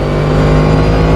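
A race car in a sim racing video game accelerates, its engine a steady, loud mid-pitched drone held close and constant with no other sounds.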